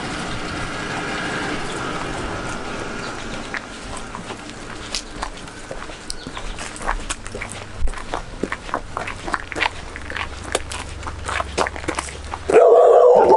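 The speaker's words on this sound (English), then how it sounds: "There's the dog." A dog barks repeatedly in bursts while someone walks around the back of a house with an open garage, under steady low background hum and water-pump noise, with a brief loud rustle at the end.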